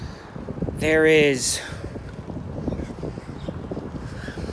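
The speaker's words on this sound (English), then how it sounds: "I'm riding my bike home" Wind rushing over the microphone while riding a bike home outdoors, a steady buffeting roar with a brief voice near the start.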